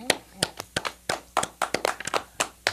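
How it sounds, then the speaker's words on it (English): On a TV show stage, a small audience gives a round of applause to Kev the God, with sharp, separate handclaps in an uneven rhythm that sound close and sparse, as though from only a few people. "Give him a round of applause, ladies and gentlemen"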